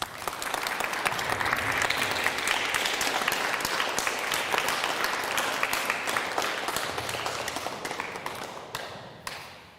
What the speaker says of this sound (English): we can give my class a round of applause